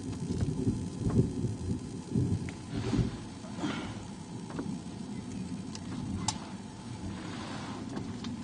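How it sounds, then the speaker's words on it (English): Thunder from a Texas supercell storm near Amarillo rolls and rumbles repeatedly over steady falling rain, the low booms swelling and fading with sharper cracks between them and no talk. "Listen to that thunder, guys."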